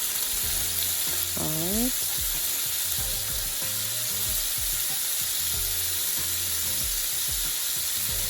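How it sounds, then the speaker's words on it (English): Tomatoes and sweet pepper sizzle loudly in a pan for Jamaican steamed fish, a dense, constant frying hiss with rhythmic stirring knocks and a brief spoken word near the start. "Then I'm going to add my tomatoes. Then my sweet pepper."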